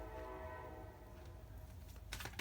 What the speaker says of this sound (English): Sorry for the train. It just like gets louder sometimes.